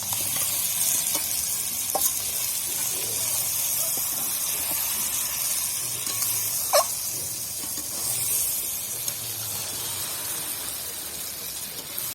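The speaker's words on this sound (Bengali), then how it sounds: "এবার আমি ভেজে রাখা মাংসটা দিয়ে দিচ্ছি।" Fried chicken pieces tipped into hot masala that has released its oil, with tomato, then stirred: a continuous loud sizzle and hiss with occasional spoon scrapes and a brief clank, close up.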